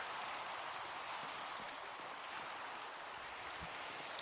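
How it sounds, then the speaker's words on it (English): Steady rain from the Minecraft video game hisses evenly and continuously throughout, a dense broadband patter with no speech and no breaks. "It's crazy that every time we start an episode together, almost immediately it starts raining."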